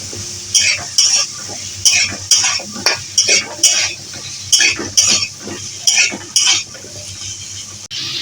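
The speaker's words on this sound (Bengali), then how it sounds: "এখন বিন দিয়ে দিচ্ছি আর শসা দিয়ে দিচ্ছি। আবার একটু কষিয়ে নিচ্ছি।" Carrot, pumpkin, green beans and cucumber being stir-fried in a pan, with a spatula scraping and clinking against the metal in a steady rhythm of about a dozen strokes over a continuous sizzle, close and clear.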